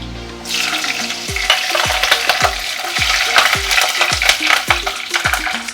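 Chopped garlic frying in hot oil for a tomato fry, a loud, continuous sizzle close by with repeated scraping and stirring strokes in a regular rhythm, backed by soft music.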